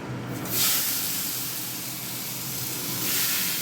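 Tomato poured into hot oil tempered with dried red chillies and mustard seeds for a vegetarian tok: a sudden loud, close hiss of sizzling that flares up and then holds steady, with no speech.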